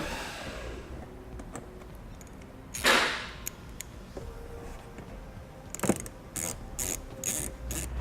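Plastic fasteners and clips being pressed back into the front fascia and wheel well of a 2018 Chevrolet Sonic, heard as scattered small clicks and one louder rustling snap, followed by a few sharp ticks near the end.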